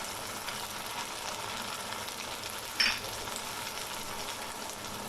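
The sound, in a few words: mutton white karahi sizzling in the pan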